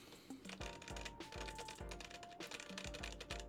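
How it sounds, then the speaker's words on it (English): Rapid keystrokes on a top-mounted mechanical keyboard with a half plate and poor-sounding keycaps and switches, a steady run of close clacks alongside a sustained tone and low thumping rhythm, with no talking. "It sounds bad because of the keycaps right now and of the switches."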